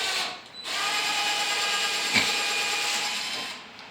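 A power drill bores through wood while building a 4' x 8' table, its motor whining steadily at close range for about three seconds, with a short dip near the start and a brief bite midway, no talking.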